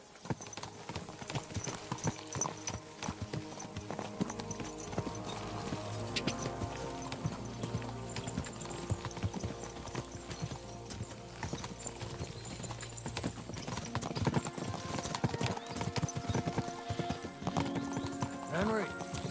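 Horse hooves clip-clop steadily in a video game, a close, continuous trotting rhythm with occasional whinnies, while voices talk over it throughout.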